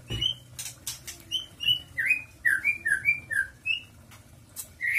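A white-rumped shama sings a string of clear, varied whistled phrases and chirps, close and loud, with short pauses between notes.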